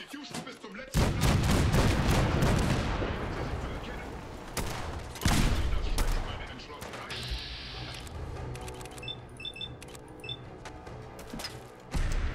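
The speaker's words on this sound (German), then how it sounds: "Und kritischer Schuss" Gunfire rings out during combat in Fallout 4, with a dense burst of loud, overlapping shots and booms that ease into sporadic cracks and clatter.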